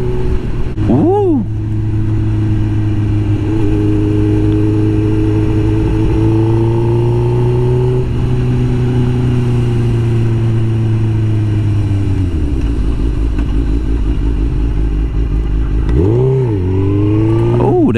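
Suzuki GSX-R1000 K5 (2005) sport bike engine heard while riding, loud and close, with steady revs shifting through gears, rising and dropping pitch, and a brief rev blip near the start and end.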